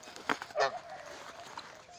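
A pet goose gives a couple of short honks, the loudest near the middle, followed by fainter calls, all close by and outdoors with no talking.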